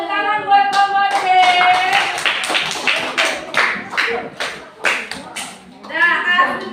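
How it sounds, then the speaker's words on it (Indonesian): Classroom applause for a student group, a scattered round of hand claps with individual sharp strikes audible, mixed with children's voices and cheering that rise at the start and again near the end. "Tepuk tangan buat kelompok C."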